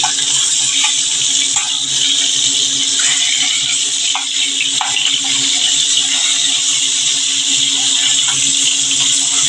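Pieces of pomfret fish fry in hot oil, a loud, continuous frying hiss, steady and bright, with occasional faint pops and clicks beneath it.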